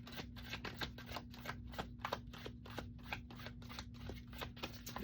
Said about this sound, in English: I'm still trying to get the hang of the shuffle.